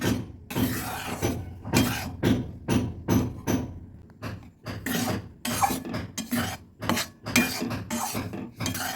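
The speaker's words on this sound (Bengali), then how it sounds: "আবার ভালো করে নেড়ে নেব হালকা হাতে ভেজে নিচ্ছি" Chickpea sattu being fried and stirred in a pan with ghee, a spatula scraping the metal in quick rhythmic strokes, close and steady, with brief pauses between bursts of scraping.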